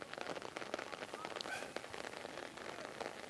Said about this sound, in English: The rain's still bucketing down here at Matthews Memorial Park